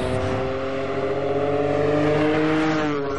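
A Honda NSX engine revving hard above 6000 rpm, with a loud, sustained, rising mechanical growl that holds strong and close for a few seconds.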